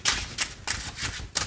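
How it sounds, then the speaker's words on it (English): Tarot cards being shuffled by hand, a series of crisp riffling bursts in a quick irregular rhythm, close and clear, with no talk over them. "I'm just going to do one additional shuffle here"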